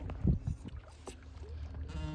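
A fishing boat out at sea, with a steady engine and water rumble running throughout at moderate, fairly close level, plus a few brief louder knocks and splashes early on.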